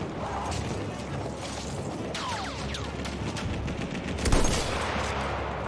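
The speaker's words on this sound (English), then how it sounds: "I don't know who the hell's shooting at me" Battlefield 1 gunfire: scattered rapid shots and mechanical clatter rattle in the distance, then one louder, closer blast cracks through the steady background din.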